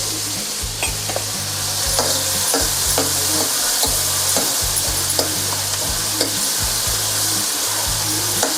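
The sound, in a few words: onion frying in a pan with a little salt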